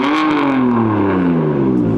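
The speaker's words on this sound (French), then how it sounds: "normalement une M4, en 2 elle patine, tu passes la 3 elle patine, et là en 3ème elle commence à réadhérer" A BMW M4 driven flat out across fields roars loud and close, its engine note straining hard and shifting pitch continuously as it accelerates, with no voices.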